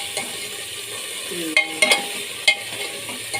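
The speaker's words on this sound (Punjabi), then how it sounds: "ਮਸਾਲੇ ਦੇ ਤੜਕੇ ਦੇ ਪਿਆਜ਼ ਆਪਣਾ ਤੜਕਾ ਭੁੱਜ ਚੱਲੇ" Onion and spice tadka frying in a pan for potato and chickpea sabzi, with a low continuous sizzle and a few sharp stirring clicks and scrapes near the end, close and without speech.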